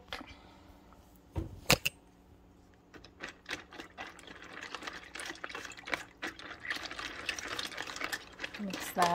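A spoon stirs a seasoning packet into a cup of macaroni and water, with soft scraping clinks and a few sharp knocks against the container, fairly quiet and close, and a voice talking over it.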